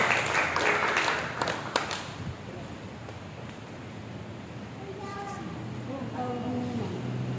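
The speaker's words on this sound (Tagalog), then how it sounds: "Malakas na palakpak sa ating Panginoon Diyos na buhay." A church congregation at a Sunday worship service bursts into loud applause that fades after about two seconds, leaving a quieter hall where faint voices follow.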